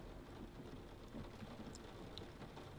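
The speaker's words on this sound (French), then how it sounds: "il commence à pleuvoir" Rain starting to fall in the video game Stray Souls: a soft, steady patter of drops with faint low rumbles beneath and occasional brighter drips, quiet and without voices.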